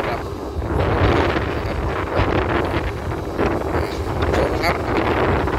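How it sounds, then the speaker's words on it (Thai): Strong seaside wind buffets the microphone in continuous loud gusts and rumbles beside the sea near a long-boom excavator, with someone talking over it throughout. "ก็ลมค่อนข้างแรงนะครับตอนนี้เราอยู่ติดทะเลเนาะ"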